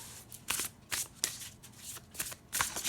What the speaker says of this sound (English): Let's do a little, see how our rifle shuffles.